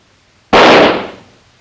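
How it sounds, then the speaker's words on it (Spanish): A single firecracker explodes with a sudden sharp bang, loud and close, whose noisy burst fades out over about a second after brief silence. "Cuando el petardo explotó, hizo mucho ruido"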